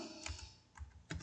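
Computer keyboard keys tapped while entering AutoCAD coordinates, a few quiet clicks and a firmer press close by in an otherwise quiet room.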